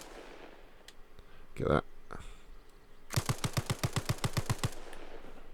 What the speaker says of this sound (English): Fires a bit slow, the Stirling, I think.